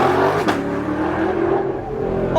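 A straight-piped C8 Corvette engine revs hard and close, a loud raw bellow with a sharp rise near the start that holds at high volume before dropping off at the end.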